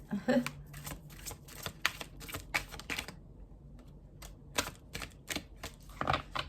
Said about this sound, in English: 3 shuffles and see what pops out.